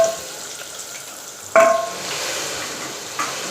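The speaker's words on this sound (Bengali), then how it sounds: "আমি এখানে গ্যাসে হাঁড়িতে আমি বন্ধুরা পেঁয়াজটা তেলের ওপরে দিয়ে দিছি" Steady oil sizzle from onions frying in a pot over a gas flame, with two sharper bursts as the pot is disturbed, close and fairly loud.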